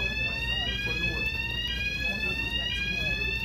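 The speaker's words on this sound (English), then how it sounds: "There's an alarm going off right now." An alarm goes off indoors, a steady high-pitched tone with layered sweeping pitches sounding continuously through the whole stretch over a low background rumble.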